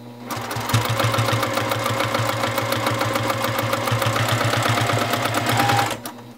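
A sewing machine free-motion quilting a small stipple pattern runs in a steady, fast needle rhythm of dense repeated clicks and motor hum, close and loud, stopping abruptly near the end.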